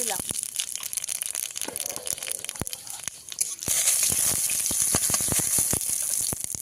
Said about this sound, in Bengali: লঙ্কা শুকনো লঙ্কা আর তেজপাতা ফোড়ন